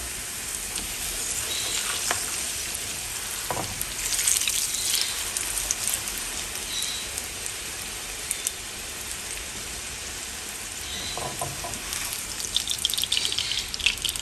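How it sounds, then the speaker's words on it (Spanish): A corn tortilla being dipped in hot oil gives a steady, even sizzle that lasts throughout, crackling like light rain, with a few brief clinks and no talking. "Vamos a pasar nuestra tortilla por aceite."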